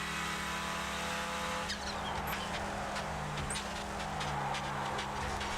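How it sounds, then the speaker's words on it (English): A Clio Cup racing car engine drones steadily at high revs with faint tire squeals in the iRacing video game, with no talking. "we're going to first top that, revving it out"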